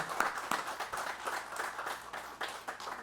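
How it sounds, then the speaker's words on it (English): Applause from an audience at an Urban League recognition ceremony honoring Black journalists and communicators, moderate and steady with scattered sharper claps throughout, no voices. "Please join me in giving her a big round of applause for today."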